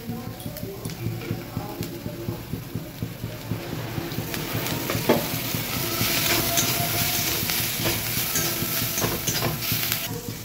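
Oil poured into a hot pan for aloo paratha starts a broadband sizzle that swells and holds steady in the second half, over rhythmic scraping and stirring knocks near the pan.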